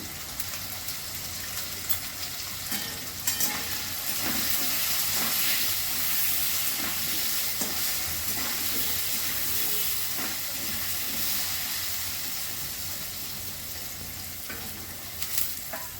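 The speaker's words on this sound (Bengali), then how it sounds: "আলুটা একটু ভাজা হোক, একটু ঢাকা দিয়ে দিচ্ছি।" Cubed potatoes fry in a pan with salt and turmeric, a soft continuous sizzle with occasional stirring scrapes and clinks, close but fairly quiet, without talk.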